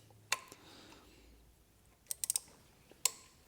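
A small socket on an extension bar works around the coil pack of a Vauxhall Corsa C, producing sparse, faint metallic clicks and a quick cluster of taps at close range.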